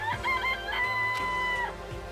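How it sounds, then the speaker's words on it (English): A chicken in the video game Danganronpa gives a run of warbling, tonal clucks and crowing calls, steady and close, with no talking over it. "It really is a chicken, right?"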